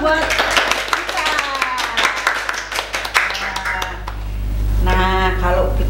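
A group at a Sunday church service with Sunday school claps in a burst of scattered applause that fades as a voice starts talking.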